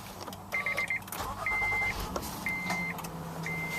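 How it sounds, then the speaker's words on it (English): A 2014 Honda Odyssey EX-L is switched on with its push-button start, giving a series of short electronic chimes over a low engine hum inside the cabin. "let's go ahead and turn it on with the touch start here"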